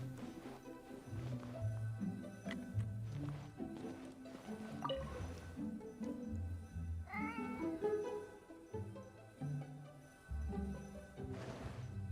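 A cat meows in the video game Genshin Impact, a short rising-and-falling call heard clearly over steady background game music.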